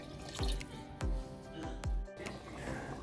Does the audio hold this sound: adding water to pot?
yes